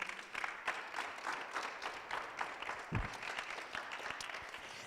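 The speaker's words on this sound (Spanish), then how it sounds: "Denle un aplauso al Señor." A church congregation breaks into sustained applause, a dense wash of many hands clapping together at moderate distance, with no clear voices on top.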